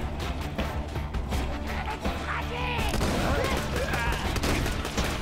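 Heavy shotgun fire and chaotic combat in the video game Borderlands 2, a dense barrage of loud blasts and crashes running almost continuously over the whole stretch.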